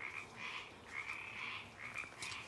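Frogs croak at night near a hiking campsite on the Pacific Crest Trail, a steady chorus of repeated rasping calls that swell and fade in waves, fairly close and continuous with no talking.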